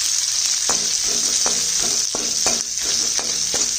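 Dried red chillies, chili flakes and chopped onion frying in oil for Chinese fried rice make a dense, loud sizzle, punctuated by regular sharp clicks of a spatula stirring against the pan.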